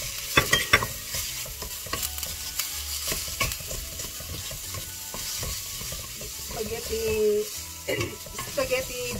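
Ground pork fries in a pan with garlic for Filipino-style spaghetti, a crackling sizzle under repeated sharp clacks and scrapes of a utensil stirring against the pan, close and busy, with a faint voice at moments.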